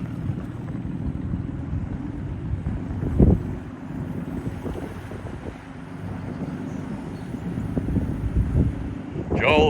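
A deep, rumbling engine of a 1948 18.5-foot Truscott wooden utility boat growls steadily on a sea trial, mixed with wind noise and water sounds, with a louder surge near the end.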